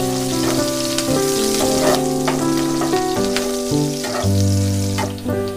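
Chopped green chillies and minced ginger hit hot oil for a spicy egg chicken masala pasta, giving a steady close sizzle that runs under tuneful background music.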